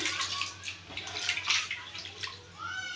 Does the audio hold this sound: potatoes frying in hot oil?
no